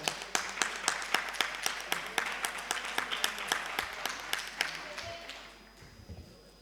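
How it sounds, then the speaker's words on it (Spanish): Sparse, rhythmic clapping at a fibromyalgia and occupational health event, individual claps sounding distinctly in a steady beat before thinning and fading away near the end. "Te aplaudo"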